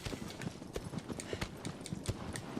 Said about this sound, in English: Move, you stupid horse.